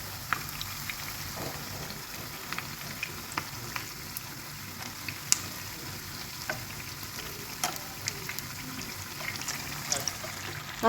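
Unniyappam fry in hot oil after being flipped: a steady, fairly quiet sizzle scattered with small crackling pops for the whole stretch.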